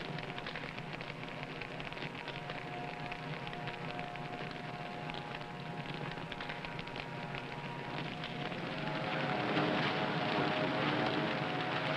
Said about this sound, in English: The creeping fire maintains its steady pace, burning through the thick undergrowth and gnawing at the roots of trees.